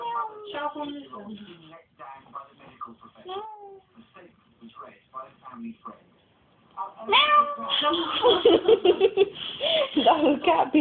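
A woman vocally imitates a cat being kicked: a few short meow-like yowls, a pause, then a loud burst of shrieking, laughing yowls up close.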